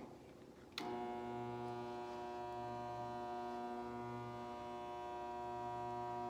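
A spot welder buzzes steadily on the box side of a 2007 Toyota Tundra, switching on with a sharp onset and holding a loud, even electrical hum with strong harmonics for several seconds.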